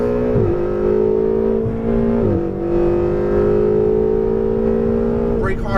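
Ferrari 488 GTB accelerating at full power on a track, a loud in-car engine roar rising in pitch with two brief dips at gear changes, then climbing again, with a voice faintly at the end.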